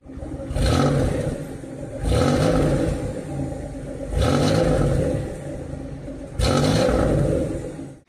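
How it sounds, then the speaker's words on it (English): A supercharged General Motors 3800 V6 in a Buick LeSabre revs hard in four repeated bursts, each rising into a loud, rough roar and then falling back to a droning idle, with no talk over it. "This car has a supercharged General Motors 3800 V6, decent power, sounds awful."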